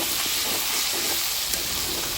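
Chicken biryani sizzling and frying in a pan after milk has been added, with a steady broadband hiss and faint scraping of stirring throughout, close and continuous.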